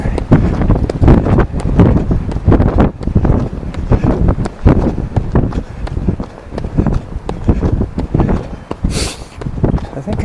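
Gusty wind buffets the microphone on a blustery Sunday run, with loud, uneven rumbling bursts mixed in with footsteps and breathing.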